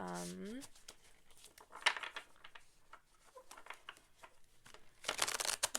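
Tarot cards shuffled messily by hand, producing rapid papery riffling, flicks and crinkles at close range. The sound is faint and uneven and swells into a denser rush of card noise at the end, with a brief voice at the start.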